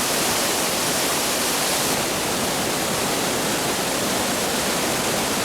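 The second tier of Thi Lo Su waterfall in Umphang roars as a dense, unbroken wash of falling water, loud and close, with no voices.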